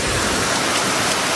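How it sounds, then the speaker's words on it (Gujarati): Heavy rain pours down in a village, a loud, continuous, dense hiss of drops on the ground and rooftops. It is steady and close, with no voices. "હા જો કેટલો વરસાદ આવતો છે."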